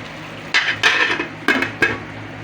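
A lid clattering onto a pan of beef steak, a few distinct metallic clanks and knocks close up, with no talk.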